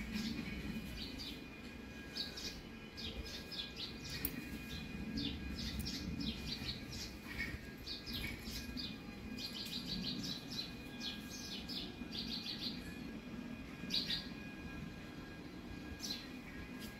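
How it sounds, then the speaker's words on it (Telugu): Birds chirp and twitter noisily overhead at a home in the morning, with rapid, repeated high calls throughout, fairly distant, over a constant low rumble. "పిట్టలు అల్లరి చేస్తూ ఉన్నాయి."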